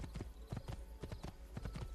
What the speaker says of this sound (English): Then we can just ride our horse back to the villa.